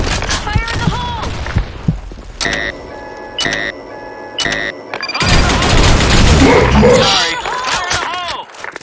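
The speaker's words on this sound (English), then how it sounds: "Grenade! Fire in the hole!" Gunfire and an explosive blast in the online shooter Blackshot, with bursts of rapid shots, metallic ticks and a loud, dense rumble near the end, close and punchy, with game voice callouts between the shots.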